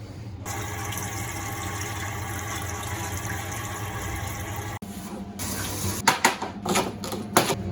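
Dal lentils rinsed under a running kitchen tap, a steady loud water rush that shifts midway, then splashing and swishing as the grains are stirred by hand.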